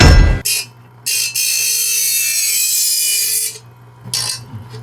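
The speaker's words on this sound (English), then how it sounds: "Why do we have a knife sharpener?" Presto electric knife sharpener grinding a knife blade in a loud, steady whine of about two and a half seconds, with short bursts of grinding before and after.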